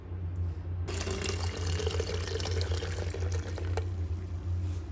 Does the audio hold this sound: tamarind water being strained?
yes